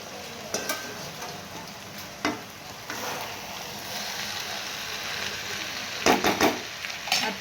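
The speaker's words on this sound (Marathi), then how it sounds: "आता हे नूडल्स आपण त्यात टाकून घेऊ।" Noodles being stirred and tossed in Schezwan sauce in a pan, with a soft continuous sizzle under occasional scraping and clinking knocks from a utensil, fairly quiet and close, without speech.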